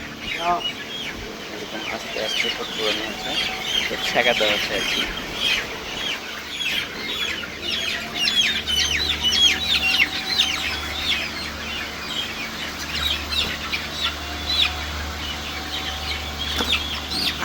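Many large chickens cluck and squawk in a busy flock as they are caught by hand five at a time for beak trimming, with wings flapping now and then, while people talk over the commotion.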